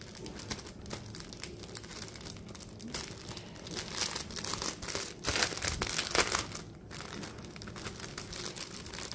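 Pink textured paper with small punched holes, from an AliExpress order and meant for découpage, crinkles and rustles as it is handled close by, in irregular bursts of crackling that swell louder midway.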